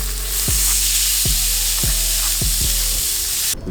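Beef top loin steaks sizzling loudly in a pan just after being flipped, a dense continuous hiss marked by several evenly spaced clunks, very close with no talking.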